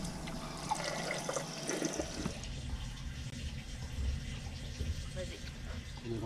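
Water running through a newly installed Dura Faucet shower on a Prolite Lounge unit, a steady continuous hiss and splash that changes tone partway through, with talk faintly underneath.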